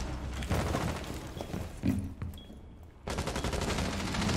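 Rapid automatic gunfire from a Rainbow Six Siege match rattles in dense sustained volleys, broken by a short lull before another loud burst of shooting resumes.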